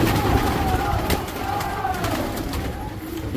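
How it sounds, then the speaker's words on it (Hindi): Kasni pigeons let out of their loft coo softly and repeatedly over a constant outdoor background hum, close by and continuous, with a faint murmur of voices around. "ये देखें हमारे भाई ने खोले कबूतर बाहर"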